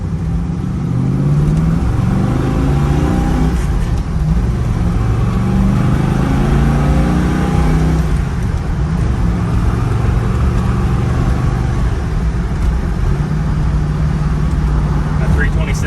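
A 1968 Chevrolet Camaro RS convertible cruises in fifth gear at about 55 mph and low revs, its engine a steady, loud low drone with road and wind noise throughout while someone talks over it.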